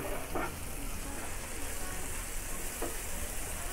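A spice paste of ground chili, garlic paste and salt fries in a pan for a Bengali egg curry, giving a steady, moderate sizzle with a couple of faint scrapes.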